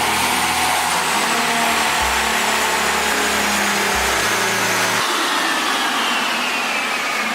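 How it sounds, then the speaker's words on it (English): A stock Nissan 370Z on a dyno holds a loud, steady, droning engine note at high revs, with a dense wash of roller and fan noise and a few shifts in pitch partway through, no voices. "we're about ready to make our first dyno pull to see what this thing makes completely stock on my dyno"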